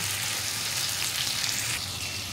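Spices including chili powder and cumin powder frying in a pan, a steady, bright hiss of sizzling at close range that stays even and continuous throughout.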